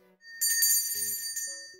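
A bicycle-style bell rings as a subscribe-reminder sound effect, a single bright metallic ding ringing out over about a second, followed by a few short electronic tones.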